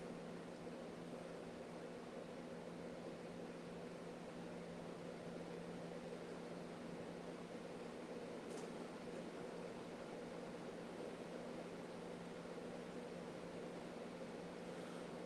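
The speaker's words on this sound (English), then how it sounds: "That dryer should be cutting off here in a little bit." A clothes dryer runs with a low, steady mechanical hum and an even whir that never changes over fifteen seconds. The sound is faint and distant and plays on its own with no voices.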